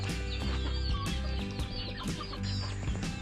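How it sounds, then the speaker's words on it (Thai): Chickens clucking on a farm, a dense flock of overlapping clucks and short calls close by, continuous throughout with no talk. "ตรงนี้ก็จะเป็นไก่หมดเลยค่ะทุกคน"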